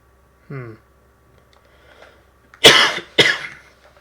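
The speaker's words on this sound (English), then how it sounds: "I heard my own cough on stream." Two sharp, loud coughs in quick succession after a short vocal sound, with near silence around them.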